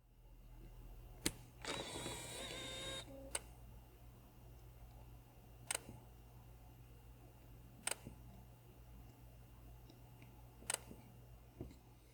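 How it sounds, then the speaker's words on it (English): Quiet leaf shutter clicks of a Lumix L10 compact camera, several soft, isolated ticks spaced a few seconds apart over a low steady room hum, with one longer, louder mechanical whir near the start. "the leaf shutter is very quiet with minimal vibration."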